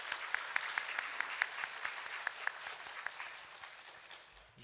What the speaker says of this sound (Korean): 박수 치시면서 우리가 축복하도록